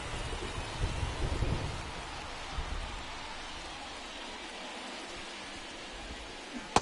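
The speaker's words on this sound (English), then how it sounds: "This rain is not letting up." Steady rain hiss from a ballpark in the baseball video game MLB The Show 2024, a constant broadband wash with faint low rumbles early on and one sharp click at the very end.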